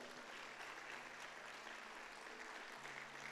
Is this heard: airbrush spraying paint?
no